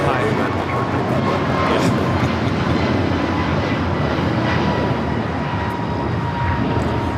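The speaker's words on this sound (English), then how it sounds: "That is American Airlines 119 taking off to Lihue on the A321neo." American Airlines Airbus A321neo taking off at LAX, a steady broad roar of jet engines filling the clip with voices talking faintly underneath.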